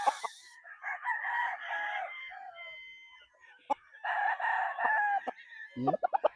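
A Sweater roundhead cross gamefowl rooster crows nearby in two long, drawn-out calls separated by a pause, with softer clucks and short farmyard noises between them and a brief voice at the end.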